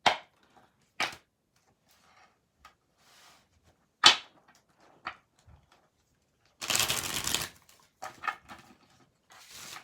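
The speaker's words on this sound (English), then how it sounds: "your cards don't want to shuffle" Sporadic tarot-reading card snaps and clicks, then a short riffling burst of cards being shuffled, followed by a few more soft flicks in a quiet room.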